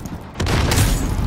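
Grenade blasts in a chaotic jungle-set shooter game: a quiet lead-in gives way to a sudden loud boom that rolls into a sustained, heavy rumble with dense low-end crackle.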